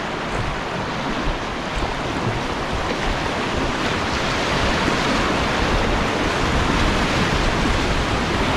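Roaring whitewater rapids with a large breaking wave on the Tanaro river, a loud, continuous broadband rush of churning water with no voices.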